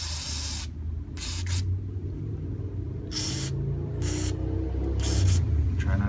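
Several short hissing bursts of WD-40 aerosol spray, sprayed into threaded holes on a Kawasaki Concours 14 GTR 1400 motorcycle, come close up over a low background hum.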